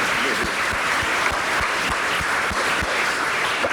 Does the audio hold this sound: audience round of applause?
yes